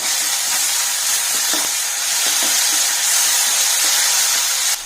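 Ginger garlic paste frying over low heat in a pan with onions and curry leaves for a Tamil-style rajma masala, a steady close sizzle with small popping crackles throughout, no voices.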